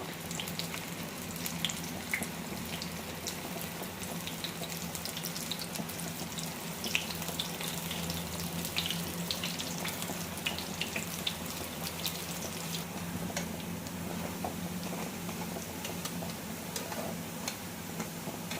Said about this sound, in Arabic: كده حطينا الزيت يقدح، وهنزل بالقطايف على طول كده